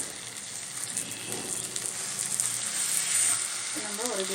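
Dried shark fish simmers in a pan with a glass of added water, giving a steady close bubbling and sizzling hiss that grows slightly louder toward the end.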